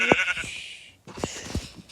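Sheep bleat in a farming video game, giving three short, distinct bleats separated by pauses, with softer game sounds between them.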